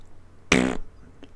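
A voice imitates a fart with one short, loud, buzzing raspberry lasting about a quarter second, near and alone against a quiet room background.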